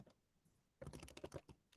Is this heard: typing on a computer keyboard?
yes